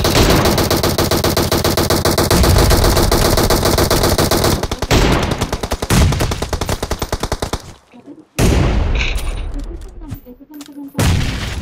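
Sustained automatic gunfire in PUBG, a dense, rapid stream of loud shots for several seconds, then broken bursts and single cracks with short gaps and a brief near-silence before firing resumes.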